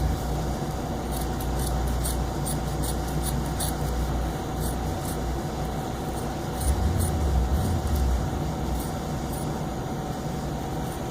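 Scissors snip repeatedly through a leather cuff bracelet, trimming off excess material: a run of crisp cuts in close succession over a steady low background hum, with a brief heavier rustle late on.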